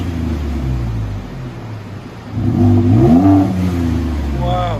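A 2016 Ford F-150 3.5L EcoBoost V6 idles through dual Borla Pro XS exhaust, then surges into one deep, loud rev in the second half before easing off, with voices heard nearby.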